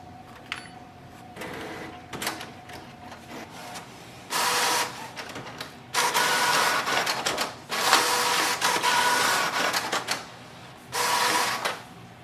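A Canon Maxify GX5020 inkjet printer printing its alignment page, with bursts of whirring print-head passes and feed mechanics alternating with quieter pauses, close and steady throughout.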